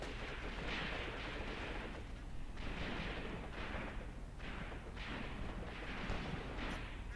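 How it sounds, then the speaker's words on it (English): Mortar and artillery fire in the Graviteam Tactics war game, a steady barrage of muffled blasts and gunfire thumping at a regular rhythm over a continuous battlefield rumble, with no voices. "Is that a mortar?"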